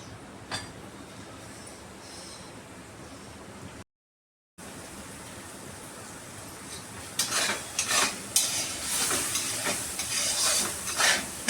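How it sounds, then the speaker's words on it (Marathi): Chutney frying in oil in a pan while being stirred: a faint steady sizzle, a brief dropout, then louder crackling and scraping strokes of a spoon against the pan in the last few seconds. "फक्त तेल आणि तेलामध्ये हिला फक्त परतून घ्यायची बस"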